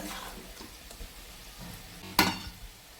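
Fried fish heads tipped into a pan of simmering greens and vegetables, a low quiet sizzle with soft stirring, then one sharp clatter of a utensil against the pan near the end.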